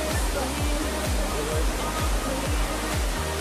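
Palani waterfall, a loud, steady roar of rushing water filling the whole stretch with dense broadband noise and no pauses.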